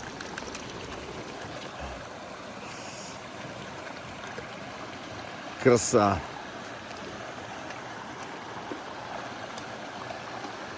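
A mountain stream high in the Carpathians rushes with a constant broadband wash of water, and a voice briefly speaks over it midway.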